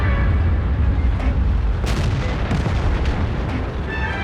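Artillery fire from a tank video game, heard as a dense, steady roar of battle with several sharp booming shots and bursts spread across the clip, loud and close, with no voices.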